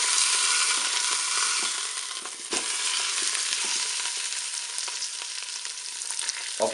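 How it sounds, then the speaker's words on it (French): A pork roast sizzles and fries in a Cookeo multicooker as it is turned, with steady bright crackling, a sharp scrape partway through and soft stirring clatter. "Voilà, je vais retourner mon rôti."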